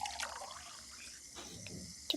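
Water runs from a household tap, a faint splashing and trickling stream with a few soft drips and clinks, brief and quiet with no talking.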